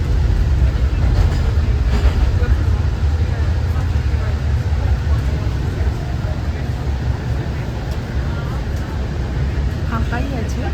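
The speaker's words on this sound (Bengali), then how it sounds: "নাম হচ্ছে লাইট রেল।" A light rail train in Newport, New Jersey rolls along with a loud, steady rumble heard from on board, the drone gently fading toward the end beneath faint background voices.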